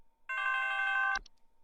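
A telephone rings once for an incoming call, a short buzzy electronic trill that ends abruptly with a click, close and clear against silence.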